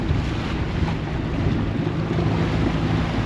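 A catamaran motors along under engine power, a steady low drone running throughout with wind buffeting the microphone and water washing past the hull.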